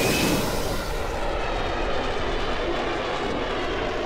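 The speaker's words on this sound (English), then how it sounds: "These engines are loud, because it's 10 engines, and those engines are very loud." Ten aircraft engines roar together in the video game Kerbal Space Program, a loud, steady, dense roar that stays constant throughout with no speech.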